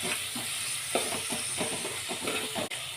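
Tomatoes softening in a pan with browned onions for a Maharashtrian prawn curry give off a steady, close sizzle, broken by scattered light scraping and stirring clicks and one sharp knock near the end.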